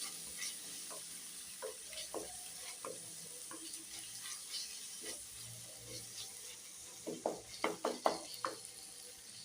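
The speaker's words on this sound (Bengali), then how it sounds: "টমেটো কুচিটা এখানে দিয়ে দেবো" Chopped tomato hits hot oil in a pan for chana masala, giving a steady soft sizzle with scattered stirring scrapes and a burst of louder clattering near the end; no talking.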